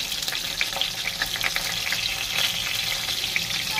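Stuffed capsicum (bell peppers) frying in oil in a pan, a dense, continuous close sizzle with faint crackling and light stirring, no voices.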